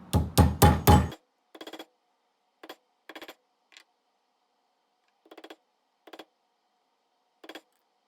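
A hammer or punch drives metal tabs back down to set an object: four loud, rapid metallic strikes come first, then scattered lighter taps in small pairs and singles with quiet gaps between.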